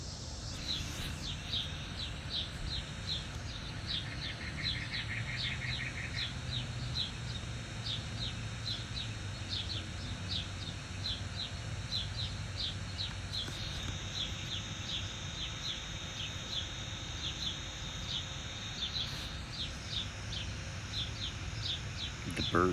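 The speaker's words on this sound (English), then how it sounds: "The birds have just started making noise." Faint, regular bird chirps repeat in a steady rhythm over quiet outdoor background at dawn in Arizona, with one short trill early on.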